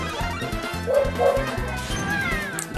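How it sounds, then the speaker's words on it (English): A dog barks repeatedly in short, loud yapping bursts indoors, with a racing game's engine and crash sounds playing underneath. "My dog is currently barking."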